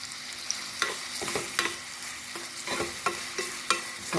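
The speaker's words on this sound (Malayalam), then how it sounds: "ഇനി നമുക്ക് ആദ്യം സവാള ഇതിലോട്ട് ഇടാം." Chopped onion sizzles in hot oil at close range, a steady frying hiss broken by regular scraping stirs of a spatula in the pan.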